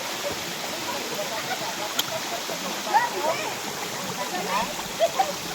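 A Mindanao waterfall sends up a steady, broad rush of falling water with occasional splashes, and voices are heard over it.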